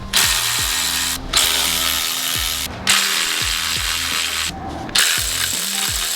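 A hand ratchet works rapidly on a bolt on a Subaru WRX VB during a front-mount intercooler install, a loud close clicking pawl in repeated bursts with brief pauses between strokes, no talking.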